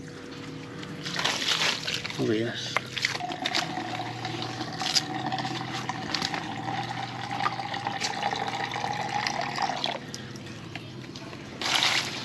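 Water sloshing and splashing as a dirty foot is washed outdoors near temple ruins in Champasak, Laos, with a steady pour running through most of the stretch while someone speaks briefly.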